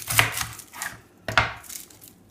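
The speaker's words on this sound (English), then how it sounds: "I just cut it in half, pop it in" Two crisp knife strokes slice through an onion on a cutting board in a quiet kitchen while making bone broth, each a sharp close chop followed by a faint knock of the blade.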